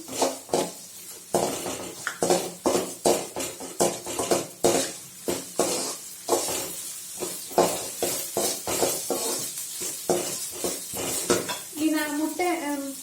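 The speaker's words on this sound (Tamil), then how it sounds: "ஒரு 1/4 ஸ்பூன் இஞ்சி பூண்டு பேஸ்ட்டு அதை போட்டு நல்லா அந்த இஞ்சி பூண்டு வாசனை போகிறளவு நல்லா வதக்கிக்கலாம்" Ginger garlic paste frying in a pan for mutton rava upma, with a steady sizzle under repeated scraping and clinking of a spoon against the pan, close up.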